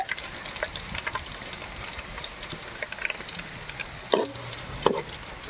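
Fresh fish fries in a pan outdoors near Kalvarayan falls, a soft continuous sizzle at moderate distance with a couple of sharper clatters near the end and no speech.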